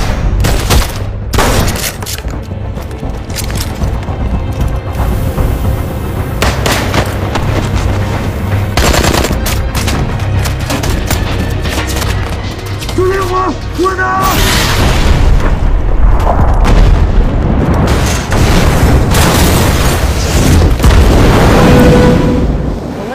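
Film battle during an assault on terrorists holding hostages: loud, dense machine-gun fire and booming explosions roll on continuously, with voices speaking over the combat.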